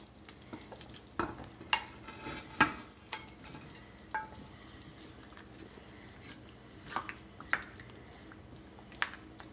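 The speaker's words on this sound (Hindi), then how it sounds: "ये देखें गोश्त तकरीबन हमारा गल गया है तो अब ये इसमें आलू डाल रहे हैं।" Potatoes dropped into a pot of simmering Sindhi biryani meat, a series of soft wet thuds and clatters among gentle sizzling and stirring, close and moderately quiet.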